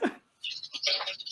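Birds chirp close by in quick, high, bright tweets, bursting in short clustered runs after a brief low sound at the start. A voice may be faintly mixed in.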